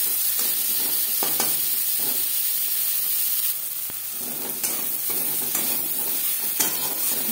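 Three medium chopped onions and a tomato fry in oil after spices are tempered for egg and potato curry, a steady close sizzle with periodic stirring scrapes and no voices.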